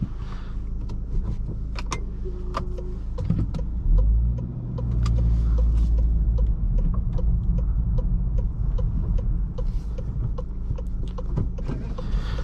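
2019 Volkswagen Golf R with a 6-speed manual pulling away onto the road, a low engine rumble that rises and holds steady inside the cabin, with scattered clicks and light interior knocks.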